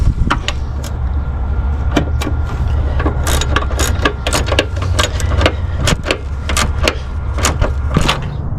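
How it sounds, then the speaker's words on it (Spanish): A wrench ratchets a bolt tight on the ABS control module of a Kia Optima, with repeated sharp metallic clicks at an uneven pace over a low background hum, no voices. "ya puedo proceder a apretarlo con la llave normal"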